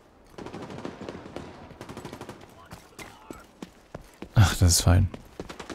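Rapid automatic gunfire in The Division 2, a long run of dense, evenly spaced shots with heavier bursts near the end, loud and close, mixed with someone speaking briefly.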